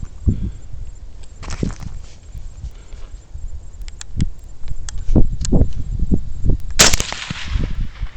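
A single sharp rifle report rings out loud and close while hunting a wild hog about 130 yards away, following several seconds of quiet outdoor rustling and scattered soft thumps.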